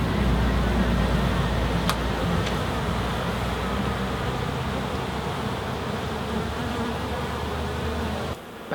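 Honeybees buzzing near a hive entrance in a garden, a dense, steady close hum of many insects with faint road traffic in the background.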